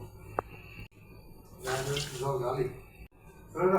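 Water pours into a pot for brown sugar syrup in two steady, close splashing streams with a short pause between, while a voice talks at the start and between pours.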